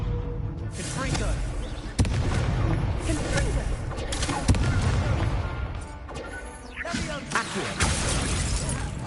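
Repeated blasts from the Confringo spell in Hogwarts Legacy, sharp booming explosions at intervals with crackling debris, amid game music and voices.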